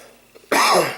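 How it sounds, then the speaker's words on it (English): A single loud, harsh cough bursts in halfway through after a faint quiet stretch, from a person who has been sick, with no speech around it. "I'm sorry about the coughing."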